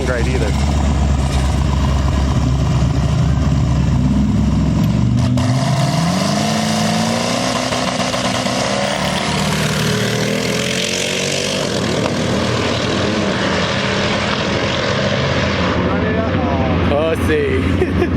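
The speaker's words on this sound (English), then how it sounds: "there's this weird noise coming from the torque converter" Loud engine drone from an LS V8-swapped Mazda RX-7 with a failing torque converter, a whining, shifting tone rising and falling as the car runs, a rough mechanical noise layered over the rumble.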